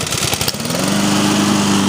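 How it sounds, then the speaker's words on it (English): A Honda walk-behind lawn mower's small engine catches on one pull and settles into a steady, loud idle with an audible valve clatter, close by and with no talking. "Fired up on one pull right there."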